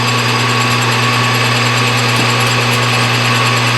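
A lathe drills a hole through a Delrin plastic spacer, giving a steady, loud motor whine with a constant hum and high-pitched machining noise throughout, and no talking.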